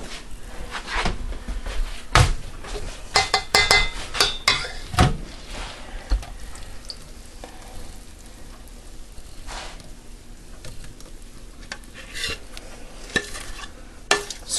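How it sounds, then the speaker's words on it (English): A spoon scrapes butter toffee made of butter, sugar and salt out of a pot, with intermittent sharp scraping and clinks of metal against the pan, irregular and close, with quiet gaps between. "Scrape as much out of the pot as you can."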